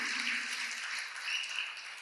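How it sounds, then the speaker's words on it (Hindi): Audience at a spiritual discourse gives a steady burst of applause, a soft, even hiss of many hands clapping at a distance with no voices. "एक बार जोरदार तालियां बजाए उस महिला के लिए"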